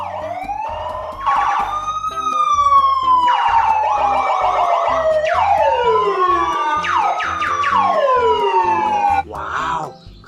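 A toy ambulance siren wails loudly and close, rising and falling in repeated electronic sweeps with a brief change of tone near the end, and no voices over it.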